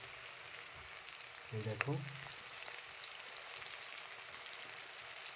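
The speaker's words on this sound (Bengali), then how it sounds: "আমার পেঁয়াজটা হালকা ভাজা হয়ে গেছে" Onions frying in a pan for a mutton curry, a steady close sizzle running throughout, with a short spoken word partway through.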